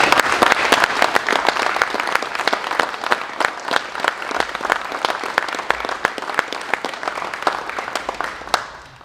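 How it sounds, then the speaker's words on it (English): An employee ownership kick-off audience applauds, the clapping loud and fairly sparse so that individual sharp hand claps stand out in a quick irregular rhythm before it fades out abruptly at the end. "let's give Kevin a hand"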